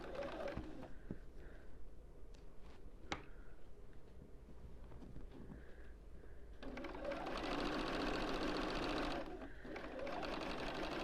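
A sewing machine stitches quilt blocks for an autumn postcard quilt, quiet handling and faint birdsong first, then a steady, close mechanical whir running for several seconds before briefly pausing and restarting.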